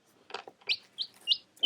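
A newly hatched baby chick inside an incubator gives several thin, high chirps in quick succession, soft and close with brief pauses between peeps.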